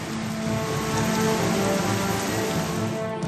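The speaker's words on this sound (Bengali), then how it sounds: "আকাশের মুখ ভার কোথাও ঝেপে বৃষ্টি কোথাও ঝিরঝিরে" Heavy rain pouring steadily, a loud, dense and unbroken wash of falling water that stays constant throughout, close by, with no voices.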